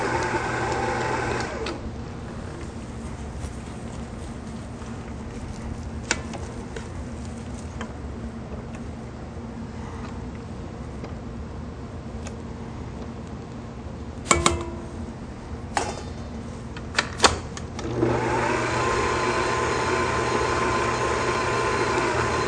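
A stand mixer with a paddle attachment beats eggs into choux pastry dough at medium-low speed, a steady loud motor whir running throughout with a few brief clatters near the end.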